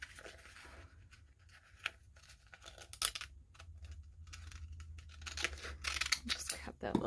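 Scissors snip through a paper transfer for decorating a glass jar, giving several short crisp cuts and rustles close by, with soft talk in between.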